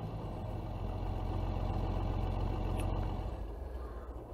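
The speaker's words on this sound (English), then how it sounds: "So let's hear the engine first while we're inside." A modded vehicle engine idles inside the cab in Farming Simulator 22, a low, steady, muffled drone that holds evenly for a few seconds with no talk.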